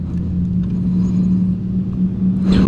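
A 2016 Suzuki GSX-R1000 sport motorcycle engine hums steadily nearby at idle, a close mechanical drone with a slight rise in revs near the end.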